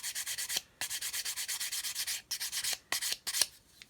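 Rhythmic hand sanding: a rapid series of soft, scratchy rubbing strokes, close by, with a few short pauses between bursts.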